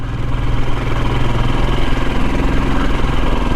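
A Royal Enfield Himalayan motorcycle engine chugs uphill along a narrow, rough Cornish lane, a loud, close, steady low throb that keeps an even rhythm throughout.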